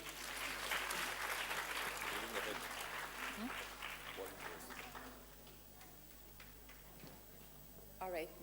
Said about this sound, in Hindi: जोरदार ताली हो जाए फिर